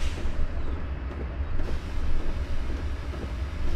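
Air brakes release on a diesel freight train on the Feather River Canyon route in Train Sim World 2021, a steady loud rumble and hiss of rushing air with a constant low engine drone.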